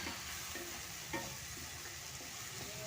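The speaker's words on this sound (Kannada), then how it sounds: "ಜಾಸ್ತಿನೇ ಉರಿ ಇಟ್ಕೊಂಡು ನಾನು ಫ್ರೈ ಮಾಡ್ಕೋತಾ ಇದ್ದೀನಿ" Tomatoes fry on a high flame for a tomato curry, a quiet, soft sizzle broken by a few faint scrapes and taps of stirring, with no talking.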